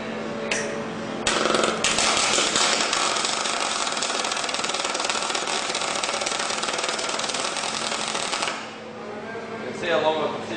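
A Telwin MIG welder holds an arc in one spot on metal, a loud steady crackling buzz for about seven seconds, preceded by short bursts and followed by a brief restart.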